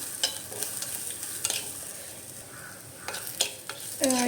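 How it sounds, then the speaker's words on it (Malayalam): Onions fry in a pan for moru curry, a steady faint sizzle broken by irregular scraping clicks of a spoon stirring against the pan. "ഇവിടെ ഉള്ളി ആ ഒരു ഗോൾഡൻ കളർ ആവാനായിട്ട് കുറച്ച് സമയം എടുക്കും"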